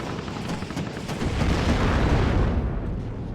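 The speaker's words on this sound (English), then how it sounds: "And he gets shut down by the Stingers and Avengers." Stinger and Avenger anti-air weapons fire in the WARNO strategy game, a dense run of booming bursts and rumbling detonations that swells louder midway and then eases, with no talk.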